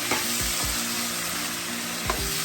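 Chicken liver fries and is stirred in a pan, Sri Lankan style, giving a steady close sizzle broken by a few soft scraping stirs of the spoon; nobody speaks.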